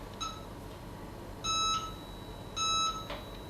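Two short electronic beeps, evenly spaced about a second apart, as a machine is switched on, preceded by a faint softer tone, clear and moderately close against a quiet background hum.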